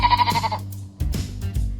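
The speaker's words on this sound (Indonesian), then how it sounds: "Domba." A sheep bleats loudly and close, one long wavering cry followed by shorter rough bleats, alone with no speech.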